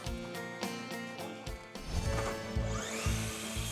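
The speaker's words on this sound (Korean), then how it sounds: "수원시 고색동에 전기톱 소리가 울려 퍼집니다." An electric chainsaw bites into wood at a Sunday woodworking session in Gosaek-dong, Suwon, with a rapid burst of buzzing strokes followed by a sustained, rising cutting whine.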